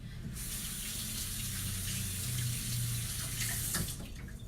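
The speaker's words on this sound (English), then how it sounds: "So let's rinse our zucchini off really quick." Kitchen tap water runs in a steady, close gush while zucchini are rinsed under it, continuous and alone for the whole stretch with faint handling noises.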